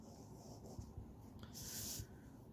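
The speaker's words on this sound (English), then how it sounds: "I'm going to write it down right here" A pen or pencil writes a short handwritten note at a knitting table, with faint, close scratching strokes and a brief louder scribble near the end.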